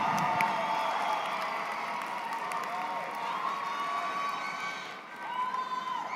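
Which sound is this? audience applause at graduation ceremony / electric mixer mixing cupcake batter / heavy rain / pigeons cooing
audience applause at graduation ceremony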